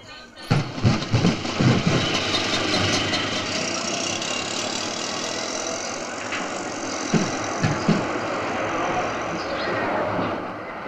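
A vehicle engine rumbles steadily at close range with a few irregular knocks and revs, and people talk over it throughout.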